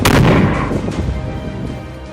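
Controlled detonation of a homemade mine: a single sharp, heavy blast opening the clip, followed by a rumbling roar that slowly decays over two seconds.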